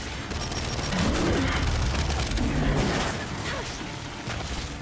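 Heavy combat in the Gears video game, with a grenade explosion rumbling amid dense, continuous gunfire, loud and sustained throughout.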